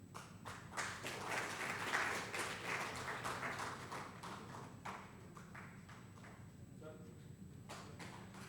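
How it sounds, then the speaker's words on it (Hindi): Audience clapping at a village launch ceremony, a dense burst of applause swelling through the first few seconds then thinning toward the end, with an announcer talking over it. "गणेश झा, एक बार जोरदार तालियां उनका माल्यार्पण करके स्वागत करें।"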